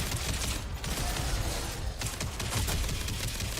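Rapid gunfire in the Mass Effect 2 video game, fired at a downed teammate to revive them: a dense, continuous burst of loud shots with no pauses and no speech.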